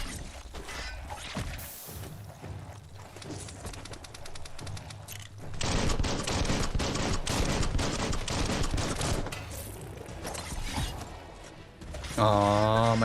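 Gunfire and combat noise in Biomutant, with busy layered shots under game music and effects, swelling louder midway and ending in a sharp burst, with faint talk now and then.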